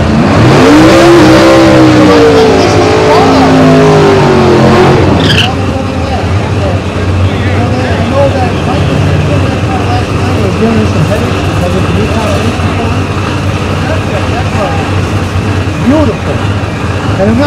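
Drag race cars in the Unlimited class, including a 442, launch down the strip at Great Lakes Dragway in Union Grove, Wisconsin. A commentator talks at first, then a loud, steady engine roar fills the rest of the clip.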